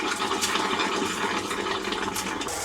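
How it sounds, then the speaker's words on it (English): Water rushes steadily into a camper's hot water tank, a constant close hiss and splash that holds an even level throughout. "First, I need to fill up the hot water tank."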